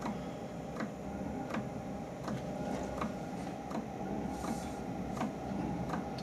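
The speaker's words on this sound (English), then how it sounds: "there's a ticking noise just started. That's the fuel pump running" Steady ticking from a Banggood diesel heater's fuel pump, regular clicks about every three-quarters of a second over a constant low hum of the running heater, no talk.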